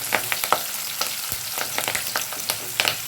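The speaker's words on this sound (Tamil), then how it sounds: "இதோடவே ரெண்டு பச்சை மிளகாய் போட்டு ஒரு கிழக்கா கிண்டி விட்டுடலாம்" Curry leaves and two green chillies frying in hot oil for a chickpea curry, a crackling sizzle broken by quick spoon scrapes and taps against the pan, close and fairly loud.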